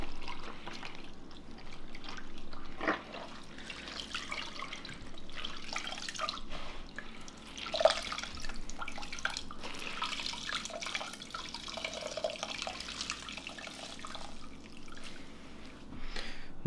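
Cold tap water runs into a sink for hand-washing a bonnet, a steady close splash with scattered drips and small clinks throughout, no talking.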